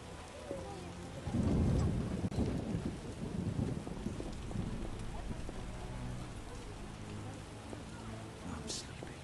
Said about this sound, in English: Storms come in.